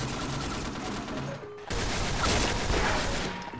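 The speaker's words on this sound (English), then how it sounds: "I fired a grenade launcher and you go in the way" A grenade launcher fires in a video game with a loud burst. A brief dip in the sound follows, then a heavy, sustained blast and rumble that slowly fades.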